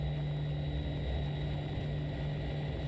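Aircraft engines drone steadily during a takeoff roll, a loud constant hum with a strong low tone and high whine, heard from inside without talk.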